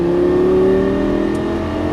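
Lamborghini Gallardo LP550 engine accelerating hard on a racetrack, a loud, close, sustained rising tone from inside the car with no pause.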